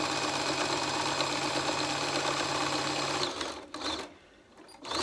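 A sewing machine runs steadily while over-edge stitching a cloth face mask, a fast continuous whirring hum that stops abruptly, followed by quieter handling sounds.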